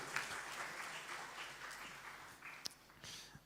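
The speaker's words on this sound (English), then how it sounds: "If everybody could just give them a huge round of applause" Audience applause after a team is thanked for months of planning, a steady wash of clapping from a crowd with a few sharper claps standing out.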